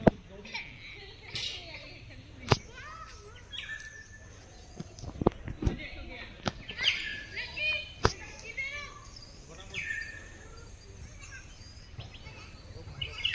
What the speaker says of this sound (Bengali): দেখেছো কি সুন্দর পাখি ডাকছে?